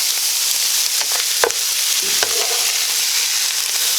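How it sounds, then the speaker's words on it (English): Chicken pieces fry in a frying pan for chicken adobo in coconut milk, giving a steady close sizzle throughout, broken by a couple of brief clinks and stirs. "now we're just gonna let this fry up in the frying pan"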